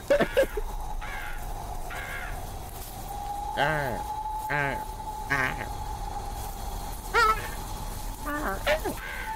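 A person imitates a crow, giving a series of harsh, rasping caws in uneven bursts, with a steady tone humming underneath.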